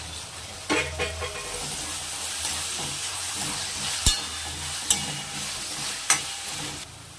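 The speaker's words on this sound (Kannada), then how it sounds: "ಇದನ್ನು ಚೆನ್ನಾಗಿ ಫ್ರೈ ಮಾಡ್ಕೊಳ್ಳೋಣ." Tomatoes and onion frying for mandakki oggarane: a continuous sizzle under repeated stirring, with a few sharp scrapes and clacks from the spoon against the pan.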